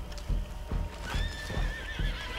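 A horse in the Red Dead video game neighs with a shrill, wavering whinny while its hooves clip-clop in a steady rhythm, close and clear.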